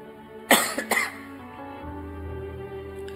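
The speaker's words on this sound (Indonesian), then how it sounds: "Penyakitnya batuk." A single close cough from an aging man, two or three sharp throat bursts in quick succession, followed by quiet room tone.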